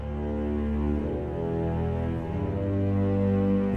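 Sustained low bass notes from a free orchestral sample plugin ring out in a dense, harmonic-rich layer, quiet and steady throughout with no talking.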